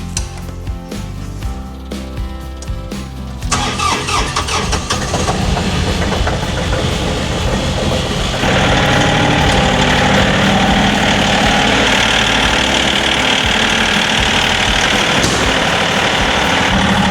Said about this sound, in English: So while the tractor's warming up